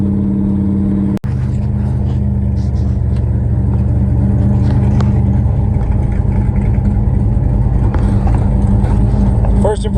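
A car drives on new tires, its engine droning loud and steady with a rising rev toward the end and a sharp click near the start, heard up close from inside the cabin.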